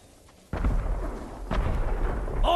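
Fireworks explode in the video game Ghost of Tsushima during a village massacre, with deep booming blasts at about half a second and again near one and a half seconds, followed by rolling rumble and crackle.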